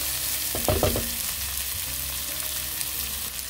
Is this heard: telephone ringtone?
no